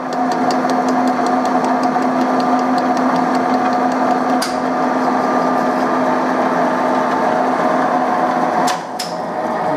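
A 2M112 benchtop drill press runs with a steady mechanical hum and a high whine that stay constant for several seconds, broken by a couple of brief sharp clicks.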